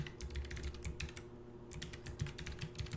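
A computer keyboard being typed on steadily, with dense, rapid key clicks in continuous runs and one brief pause, heard close and alone over a faint steady hum.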